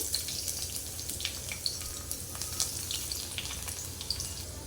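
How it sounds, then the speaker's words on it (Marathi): Crushed garlic fries in hot oil in a kadhai, a faint steady crackling sizzle with small bright pops scattered throughout, close but quiet and with no talking. "आता आपण याच्यामध्ये लसूण टाकूया ठेचलेली"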